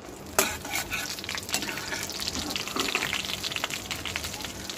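Chopped onions frying with garlic and dried chili, a dense close sizzle with a sharp clack from the pan at the start and ongoing stirring scrapes, fairly quiet overall.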